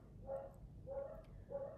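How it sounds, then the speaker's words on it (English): Three evenly spaced barks ring out, fairly faint and a little distant, from dogs that sound excited, with no voices over them. "my dogs are excited too."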